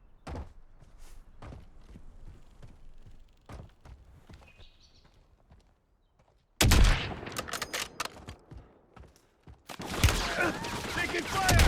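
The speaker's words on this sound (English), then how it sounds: "Taking fire." Gunfire in the Warzone battle royale shooter: quiet game ambience with faint taps, then a loud burst of rapid shots erupting midway and another dense volley near the end, close and harsh.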